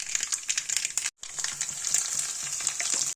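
Curry leaves crackle and sizzle as they hit hot papaya curry, a dense continuous frying hiss with quick pops and stirring clatter, broken by a brief pause before the sizzle resumes.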